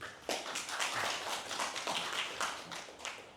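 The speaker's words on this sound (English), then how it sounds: "Let's give her a warm round of applause" Warm applause from a seated conference audience welcoming a speaker to the podium at an academic reflective-circle panel, steady moderate clapping with audible individual claps throughout, fairly distant and uninterrupted.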